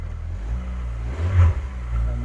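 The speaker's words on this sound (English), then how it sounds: "And there's the engine on," A Rover K-Series car engine running nearby with a low steady hum, briefly revving up in the middle before settling back to idle.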